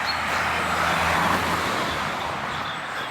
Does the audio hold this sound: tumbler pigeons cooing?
no